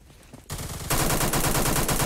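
Rapid automatic fire from a G3A3 rifle in a video game, a loud sustained burst that starts after a brief softer lead-in and hammers on without pause to the end.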